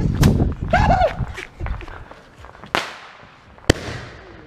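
Fireworks at a backyard July 4th show go off with a couple of sharp, separate bangs and crackles amid excited shouting from people nearby.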